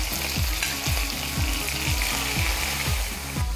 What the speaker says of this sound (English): And now place the beef fillet into the hot oil.